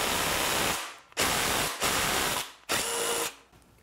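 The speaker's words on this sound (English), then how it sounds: "first we'll tighten this bolt down to 50 foot-pounds of torque and try it" An impact driver tightening a camshaft bolt rattles in three loud, close bursts with brief pauses between them, each hammering buzz lasting under a second and fading at its end.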